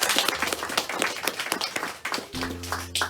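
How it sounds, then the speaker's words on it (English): Audience applause at a poetry stage event, a dense patter of many hands clapping steadily for about three seconds, with a low hum joining near the end. "So give them all a round of applause."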